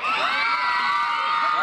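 A dense live concert crowd cheers and whoops loudly and continuously for the performer, with shrill raised voices blending together.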